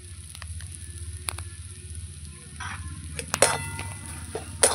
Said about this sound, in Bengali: এবার ভালো করে খুন্তি দিয়ে এইভাবে নাড়িয়ে নাড়িয়ে আমি আলুর চপের আলুর পুরটা আমি এইভাবে তৈরি করব